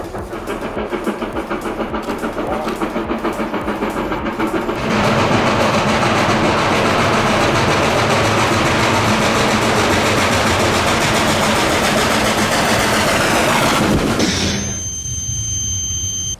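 A loud, steady rumble of the Reading 2102 steam locomotive passing close by, directly below, with heavy mechanical roar swelling midway and cutting off abruptly near the end.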